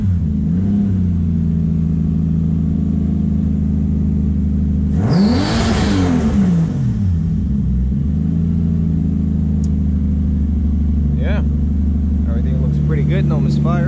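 A Toyota 2JZ engine swapped into a Mazda RX8, just cured of a misfire, idles with a steady low drone and takes one strong rev that rises and falls around the middle, with brief clicks afterward.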